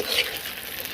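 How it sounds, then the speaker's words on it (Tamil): Goat brain being stirred in a cooking pan, giving a soft continuous sizzle with scraping stirs, close and steady, with no voices. "மூளையை நல்லா இதில் போட்டு கிண்டிக்கும் நண்பர்களே."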